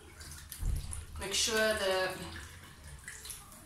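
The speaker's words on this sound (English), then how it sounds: "So you wet it under a tap, or you can submerge it in water if you want to." Cold water runs from a tap over a wig as it is wetted for washing, a steady splashing flow beneath a person's talking.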